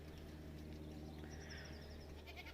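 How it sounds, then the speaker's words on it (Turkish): Goats bleat from a farmyard, calling back and forth to other goats standing by a door. The wavering cries are moderately close and rise over a steady low background hum, with no talking. "Arkadaşları keçiler kapının oraya durmuş oradan beğliyor. Bizim keçiler de buradan onlara sesleniyor."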